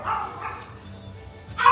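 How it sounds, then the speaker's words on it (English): Several dogs bark for attention after being fed, sharp close yips and woofs spread across a short stretch with faint background sound, and a louder bark at the end. "they're still barking because they still want attention"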